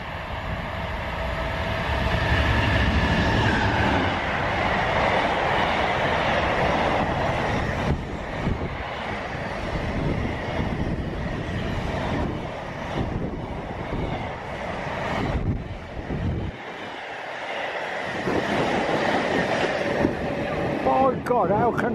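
Low freight wagons of a train roll past at Hitchin station, a loud continuous rumble and clatter of wheels with some squealing that gradually eases toward the end, a gust-like rush accompanying it.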